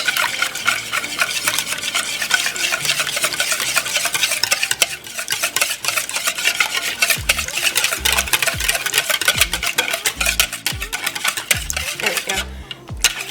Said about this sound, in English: And then I'm just going to whisk together my wet ingredients first.